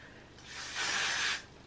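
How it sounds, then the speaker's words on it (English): Got2b hairspray sprayed onto the roots of a wig, a single steady aerosol hiss lasting about a second, close and fairly loud, with no talk. "I love to take my G2B and spray it on the roots"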